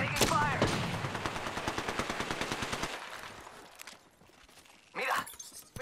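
Automatic gunfire in the video game Apex Legends rattles out in a rapid, loud burst of about three seconds, followed by quieter scattered shots and a late sharp blast, with a character voice briefly heard.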